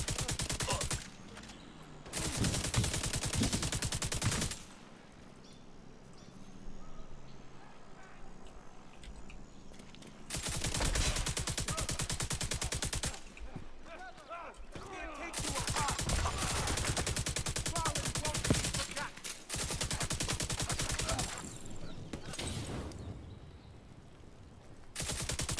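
Sustained bursts of automatic fire from a light machine gun in The Division 2, loud and dense, arriving in several long volleys separated by short quieter gaps.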